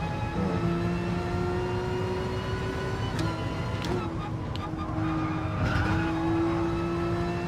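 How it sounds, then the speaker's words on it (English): A race car engine in Gran Turismo Sport at Laguna Seca holds a steady drone, and its pitch jumps with gear changes during downshifts. Loud and continuous, with a voice talking over it. "So I gotta always be downshifting with this thing."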